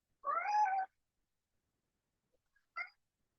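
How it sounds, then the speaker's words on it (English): A tuxedo cat gives one clear, drawn-out meow close by, followed after a pause by a brief, softer chirp-like meow in an otherwise quiet room. "Okay, that's a new meow."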